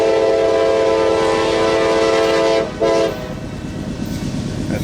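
A long freight train sounds its horn in a loud sustained chord that breaks briefly, blasts again, then stops, leaving the rumble and rattle of the passing cars.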